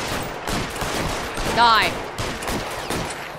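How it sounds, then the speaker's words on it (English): Gunfire from a shootout in the video game L.A. Noire, a burst of shots under a voice, with a rising whistle-like effect in the middle of the exchange. "Oh, you're gonna shoot me, huh? Then I'm gonna shoot you back."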